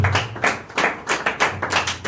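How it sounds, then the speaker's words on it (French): Clapping at a UDPS political rally, loud and close, in a rhythmic series of roughly five or six bursts pulsing about twice per second rather than a smooth wash of applause, with a low hum underneath and no voices. "Sous vos applaudissements, Maboko."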